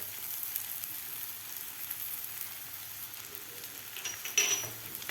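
Ridge gourd curry with spices and salt sizzles quietly in a pan while being stirred, a soft continuous frying hiss with a brief scrape of a utensil near the end.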